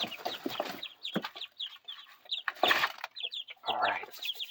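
A brooding hen and her ten-day-old chicks, with soft, irregular clucks mixed with quick, high chick peeps close by, clustered in bursts with no talking.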